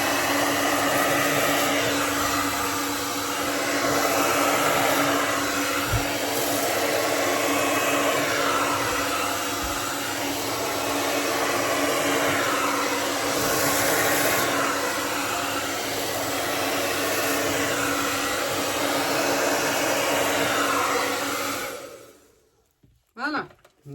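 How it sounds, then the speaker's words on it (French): A hair dryer blows loud and steady for about twenty seconds while it is used to create a bloom effect, cut to a higher speed setting, before it switches off near the end. "Je m'arme de mon sèche-cheveux."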